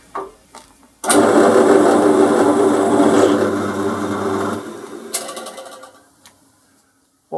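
An end mill cuts a flat bottom into a drilled hole in a tool holder, a loud machine whine that starts abruptly, holds for a few seconds, then fades and stops.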